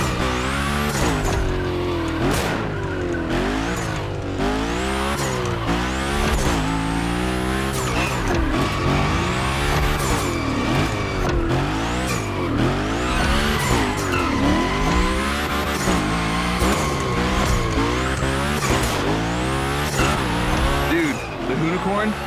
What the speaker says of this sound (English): Hoonigan, that's a tire-slaying monster.